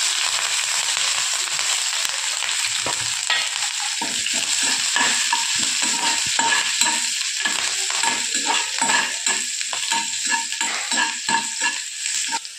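Cumin seeds, garlic cloves and finely chopped green chilies hit hot oil in a pan, a loud bright sizzle with rapid crackling pops and stirring that carry on steadily.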